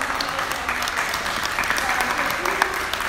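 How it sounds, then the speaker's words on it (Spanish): Audience applause at a church testimony night, a steady, dense clapping that fills the whole stretch, with voices mixed in under it. "Gloria a Dios, un aplauso."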